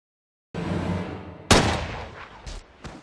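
Gunfire in a film scene with a sniper and mafia gang at a farm: a sharp loud shot cracks out over a rumbling background, followed by fainter distant reports.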